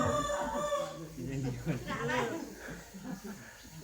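A fighting rooster crows once, loud and near, a rising then falling call that trails off, with other sounds around it.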